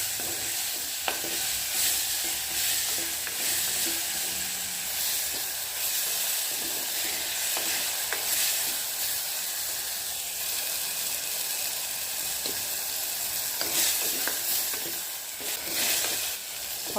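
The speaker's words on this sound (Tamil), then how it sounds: "இப்போ கேளான் போட்டுக்கலாம். வேறு எண்ணெயிலையும் வதக்கிக்கலாம்." Wild mushrooms sautéing in oil for a mushroom curry sizzle and hiss steadily, with repeated scraping and clicking as they are stirred in the pan, close up and sustained.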